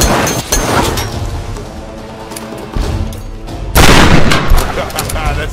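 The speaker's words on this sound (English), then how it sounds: "I'm under fire!" Enemy gunfire in the Tomb Raider video game, set at a cliffside bunker: loud, dense bursts of shots and booms that keep up throughout, swelling louder near the end.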